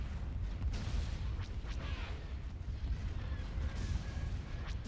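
A New Republic space fleet exchanges weapons fire in Star Wars: Thrawn's Revenge during a full fleet engagement, heard as a continuous low rumble broken by distant booms and faint zaps.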